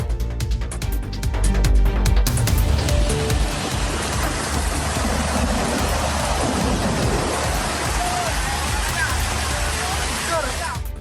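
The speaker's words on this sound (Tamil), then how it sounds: "இந்தோனேசியாவில் வரலாறு காணாத அளவில் கொட்டி தீர்த்த கனமழையால் மேற்கு ஜாவா தீவில் உள்ள கிராமங்கள் நீரில் மூழ்கின" A loud, steady roar of torrential rain and rushing floodwater fills the scene as record downpours swamp villages in West Java, Indonesia. It carries on unbroken with heavy low rumbling, and a broadcast voice may sit faintly underneath.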